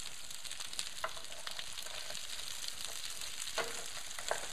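Duck breasts cooking in a cast-iron pot, giving a steady close hissing sizzle with faint crackles and pops throughout.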